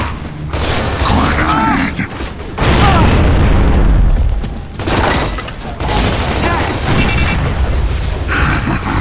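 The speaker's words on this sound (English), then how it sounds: "Grenade!" Grenade blasts boom through a Team Deathmatch match in Gears of War 3, landing as loud, heavy detonations and rolling rumbles amid constant gunfire and battle noise for the whole stretch, with voices speaking over the chaos.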